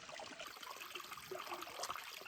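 A small outdoor stream trickles in a faint, continuous, gently bubbling wash of water, with no one speaking.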